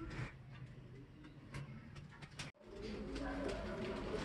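Soft cooing of a pigeon nearby, low and quiet, over faint background noise with small clicks and rustles.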